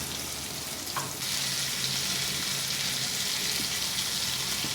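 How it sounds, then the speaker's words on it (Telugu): Fenugreek seeds drop into hot oil for a fish curry, a brief clink followed by a steady, loud, close sizzle and crackle that holds evenly to the end. "ఆయిల్ హీట్ అయ్యాక దీనిలోకి 1/2 టీ స్పూన్ మెంతులు వేసుకోండి."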